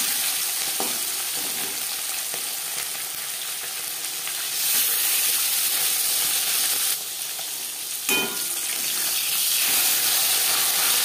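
Fish frying in hot refined oil, a loud continuous sizzle and hiss close up, with a couple of short stirring or shifting bursts partway through.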